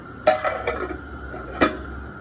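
Metal pot lid set down with a sharp clank, followed by a few lighter rattles and a second distinct clink, close and fairly quiet in a home kitchen where Kabsa is cooking.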